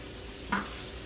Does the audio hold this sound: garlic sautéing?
yes